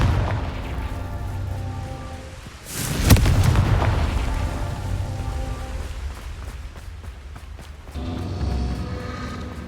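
A Confringo blast spell in Hogwarts Legacy goes off as a sharp close explosion with a bright crack and rumbling tail, set against steady rain pattering, then a second low swell of rumble later.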